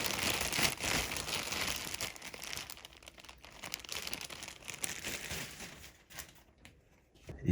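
A paintbrush rolled in plastic wrap is unwrapped during wood surface finishing, giving close, continuous crinkling and rustling of the plastic with small crackles, fading toward the end, with no talk.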